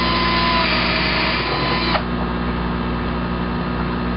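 A power tool bores holes into a plastic hydroponics drip bucket with a steady, loud whirring hum. The pitch drops partway through as the cut eases off, and no one speaks.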